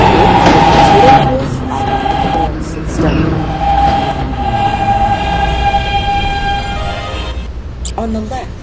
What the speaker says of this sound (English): This is a West Patat bound B train.